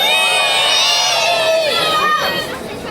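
Parents and children in a crowd at a school drawing prize ceremony in Antibes shout and cheer loudly together, a dense sustained roar of voices that eases slightly at the end.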